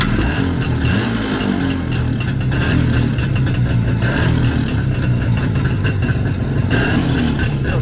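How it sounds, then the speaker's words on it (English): A 1978 IZH Jupiter-3 two-stroke sidecar motorcycle engine runs and revs with a raspy, buzzing rattle, loud and close throughout. "as you can tell by the sound of the engine, it's a two-cycle engine"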